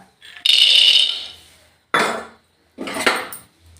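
Peanuts dry-roasted in a pan without oil: three separate bursts of hard, rattling clatter as the nuts skitter and are tossed against metal, loud and close, with short silences between them.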